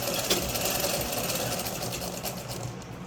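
A sewing machine runs continuously while stitching a saree pallu hem, giving a steady, close, fast mechanical whirring hum with rapid needle clatter throughout.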